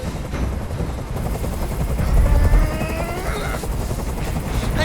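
A helicopter hovers overhead in the video game Detroit: Become Human, a steady loud rotor drone with low rumble that swells briefly midway and carries on throughout.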